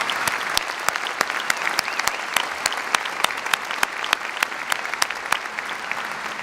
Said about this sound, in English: our national anthem deserves another big round of applause